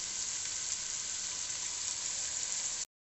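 Chicken frying in a pan with whole coriander seeds added gives a steady, fairly loud sizzle and crackle with no talk, stopping abruptly just before the end.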